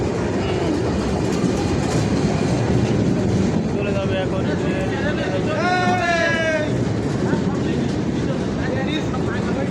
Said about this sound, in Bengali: ট্রেন আবার চলে যাচ্ছে